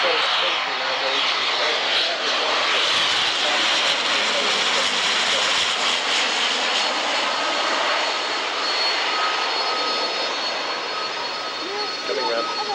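An ATP turboprop airliner banks through a tight turn at an airshow, its engine noise a loud, continuous hiss and drone with a faint steady whine. A commentator talks over the flypast.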